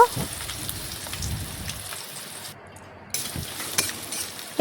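Chopped onions fry in oil with whole cumin, dry red chilli and a bay leaf while being stirred, making a close, rain-like crackle with scraping stir sounds that dips briefly midway and then resumes.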